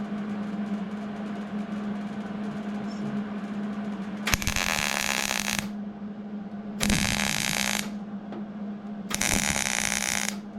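Tack welding on a custom Mopar truck tailgate: three bursts of harsh broadband crackle, each one to two seconds long, over a steady low shop hum, loud and close.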